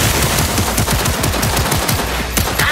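Rapid automatic gunfire in Cyberpunk at maximum difficulty, a dense, loud, continuous stutter of bursts that fills the whole stretch, with no talking over it.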